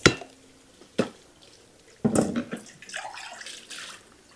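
Tap water runs and splashes into a pot of rinsed mixed beans as they are covered with water, with a few clanks of the pot and a steady pouring flow, close and moderately loud.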